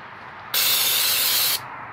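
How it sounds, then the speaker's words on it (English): One continuous aerosol burst of brake parts cleaner sprayed onto the inside braking surface of a travel trailer's brake drum, a sharp, loud hiss lasting about a second, with quiet before and after. "So we're just gonna take brake parts cleaner,"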